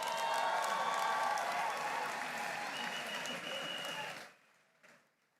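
Sustained audience applause at a university commencement ceremony, a dense, loud wash of clapping from a large crowd that fades out near the end, leaving a faint murmur.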